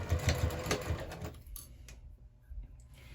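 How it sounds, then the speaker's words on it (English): Sewing machine stitching the lining of a crossbody bag, a close, quick rhythmic whir for about a second and a half, then quieter light clicks and handling noise, with no talking. "we're going to go ahead and sew the lining at a slightly bigger seam allowance than the exterior"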